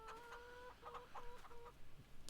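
Chickens in a coop in the Farming Simulator video game: a few soft, quick clucks in short bursts, fairly faint and close, with no talk.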